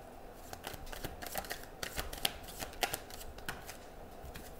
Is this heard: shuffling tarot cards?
yes